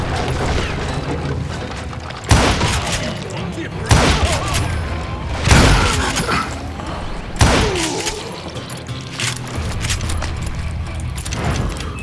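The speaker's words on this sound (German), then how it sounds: "Das ist Dynamit" Dynamite explosions in Call of Juarez Gunslinger: several loud, booming blasts with crashing debris come at irregular intervals between gunfire and clatter, while someone talks throughout.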